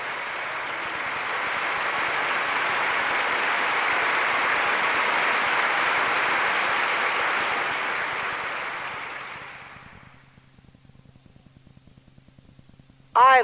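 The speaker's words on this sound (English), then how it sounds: "The crowd applauded." A large audience applauds a performer appearing under a spotlight as the curtain rises: dense, steady clapping that holds for about nine seconds, then fades away into quiet.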